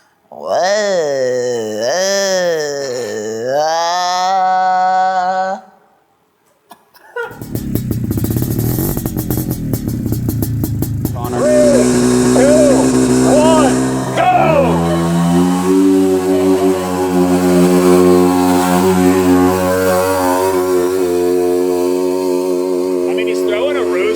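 A cheap midsize quad ATV in high gear revs hard at a drag race start while being power braked. The engine note swings up and down up close, then cuts out briefly before a loud, steady roar, with voices talking over it.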